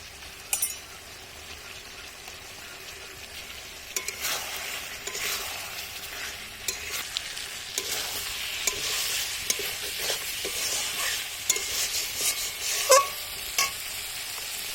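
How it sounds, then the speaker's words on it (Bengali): Meat with chili powder and spices being stirred and fried in a pan, a steady sizzling hiss broken by frequent scrapes and clinks of the spoon against the pan, with no talking. "এবার সব কিছু একসাথে ভালো করে কষতে নেবো"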